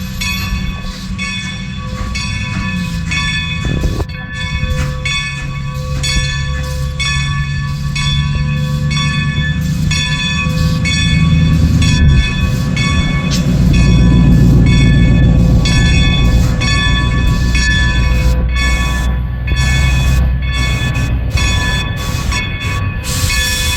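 A Strasburg Railroad train rumbles into a station steadily with a ringing bell and sustained squeal of wheels, growing louder and heavier as it draws closer and slows.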